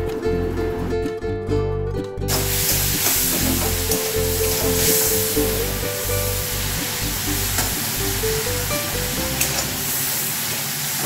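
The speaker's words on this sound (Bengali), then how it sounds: "3 চামচ টমেটো বাটা আর 1/4 টিস্পুন হলুদ গুঁড়ো দিয়ে এবার ভেজে নেব, টমেটোর কাঁচা গন্ধটা চলে যাবে।" Tomato paste and ground turmeric fry in a pan for a Bangladeshi village-style hilsa fish curry, giving a steady, loud sizzle with stirring scrapes throughout, with no talking.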